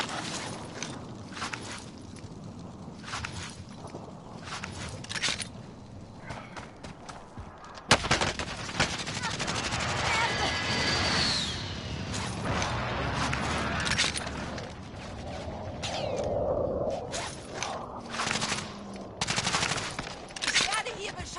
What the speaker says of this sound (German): Ich werde hier beschossen!